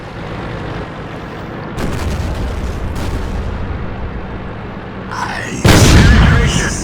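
Tank cannon fire from a T-32, a Tier 8 American heavy tank firing APCR rounds in the World of Tanks game, with booming blasts at close range, the loudest landing near the end over a steady battle rumble.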